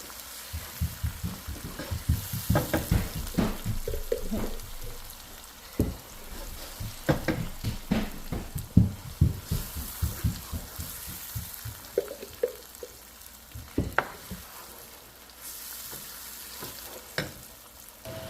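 A pepper mix frying in a new cooking pot, with a continuous sizzle broken by repeated clattering stirs and spoon knocks, close and fairly loud.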